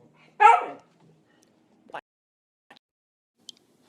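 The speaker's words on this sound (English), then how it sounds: "I'm listening to my awesome dog whine at me" A dog lets out one short, high whine, followed by a few faint, brief whimpers and soft noises in an otherwise quiet room.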